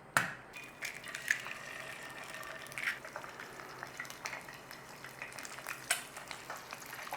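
Eggs frying in a pan for a breakfast roll, a steady close sizzle with scattered crackles and sharp pops throughout, no voices.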